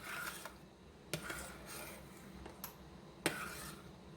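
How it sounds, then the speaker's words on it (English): A spoon stirring vanilla into a small batch of banana jam in a pot, with soft scraping and a few light clinks against the metal, quiet and close. "I'm going to stir that in"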